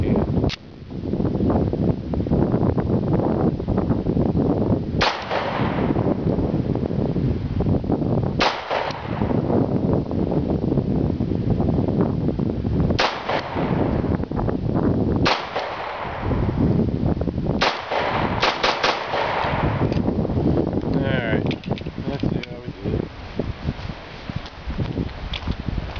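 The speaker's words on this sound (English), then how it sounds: "It does have a decent pop since it's polymer and can't take the recoil like a 1911 can." Shots from a Ruger P345 polymer-frame .45 pistol, a handful of sharp, loud reports spaced a few seconds apart over steady outdoor noise, some fired as quick double taps.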